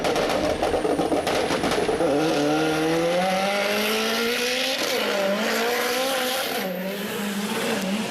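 Cars in an illegal street race on calle El Juncal, engines roaring and climbing in pitch with screeching tire squeal, loud and continuous throughout.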